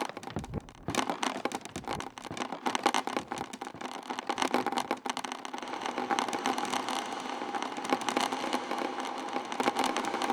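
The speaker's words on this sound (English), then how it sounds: "Add some delay" A Synthux Spotykach granular synth with delay runs as a dense, crackling, grainy wash that keeps on without a break, loud and close, with sputtering textures throughout and no voices.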